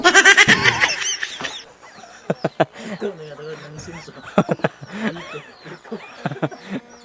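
Chickens cluck in short, choppy bursts near and far, mixed with people talking and laughing close by.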